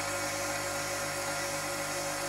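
An old twist drill bit is ground freehand against a bench grinder, giving a steady, loud, gritty whine with a constant motor hum and no pauses.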